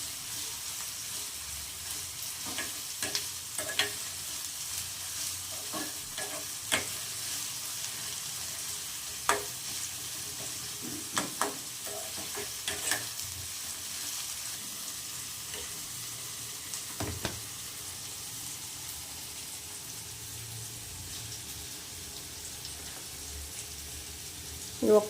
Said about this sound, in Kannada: ಕರಿಬೇವಿನ ಸೊಪ್ಪು, ಮೆಣಸಿನ್ಕಾಯಿ ಎಲ್ಲ ಹಾಕಿ ಫ್ರೈ ಮಾಡ್ತಾ ಇದ್ದೀನಿ ಫ್ರೆಂಡ್ಸ್.